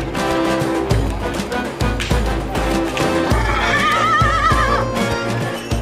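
Horses whinny repeatedly over a busy crowd at the packed Gilo horse market in Transylvania, Romania, with clip-clopping hooves and people talking throughout, one long quavering neigh standing out close by.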